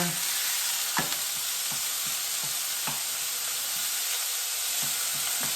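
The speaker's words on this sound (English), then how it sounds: "So we're cooking it up, we're breaking it up as we go. Stir it, turn it over." Cajun chicken sausage sizzles steadily in a pan, with a constant frying hiss and repeated soft scraping taps as it is stirred and broken up.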